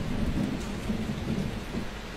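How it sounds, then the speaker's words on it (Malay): Rain and thunder in an animation, a steady dense hiss of rainfall with low rumbling thunder rolling underneath throughout. "Sudah hujan"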